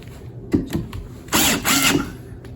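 A few short mechanical bursts from a tool tightening screws into interior window framing, with clicks followed by a louder sustained whir, close by.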